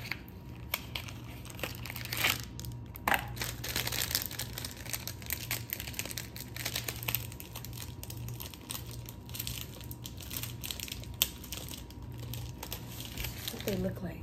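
Cardboard box torn open by hand, a Japan Crate red box, with crinkling, tearing and crunching bursts running continuously near the microphone, mixed with light talk.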